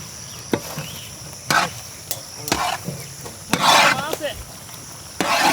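A ladle stirs and scrapes through goat balls mixed with eggs in a village cooking pot, giving irregular knocks and wet scrapes spaced a second or so apart over a faint background hiss, with occasional talk nearby.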